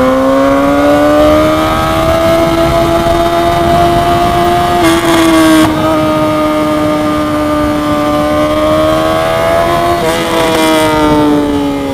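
A motorcycle engine revs at high RPM, holding a loud, steady buzzing whine with a couple of brief blips of extra throttle, close and alone with no talk.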